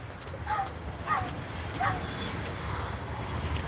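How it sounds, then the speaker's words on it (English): A dog barks three times from some distance, short sharp yips spaced about half a second to a second apart over outdoor background noise, with a voice speaking nearby. "Shut up, barking dog."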